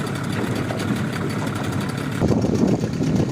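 A 2021 Yamaha Enduro 9.9 outboard motor idles right after its first start, giving a steady, close, low mechanical hum that swells briefly near the end.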